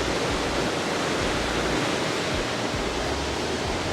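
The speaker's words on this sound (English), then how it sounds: "absolutely worth it to stand in behind a really powerful waterfall" A powerful waterfall in Norway roars in a dense, constant wash of white noise, loud and close, heard from behind the falling water, with no other sounds breaking through.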